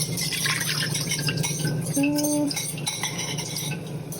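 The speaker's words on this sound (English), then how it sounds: "I'm just gonna just mix it a little bit just to make sure that all the sugar comes out with the sauce" A spoon stirs sauce mixture for sticky fish sauce wings, with soft metallic clinks and scrapes against the pan or bowl and a brief ringing tap, close and quiet over a low background hum.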